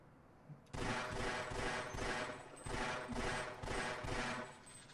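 Rapid bursts of gunfire from the Half-Life video game, fired at signs, come as several loud automatic volleys in quick succession after a brief quiet start, with no talking.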